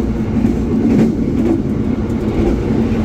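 Interior of the KA Brawijaya passenger train while running from Pekalongan, a loud, continuous low rumble of wheels and carriage with faint rhythmic rattles throughout.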